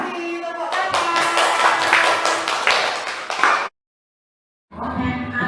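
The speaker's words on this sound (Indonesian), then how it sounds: "Terima kasih, tepuk tangan." Classroom applause from children: several seconds of close, loud, rhythmic hand clapping, stopping abruptly into silence before a short burst of talk resumes.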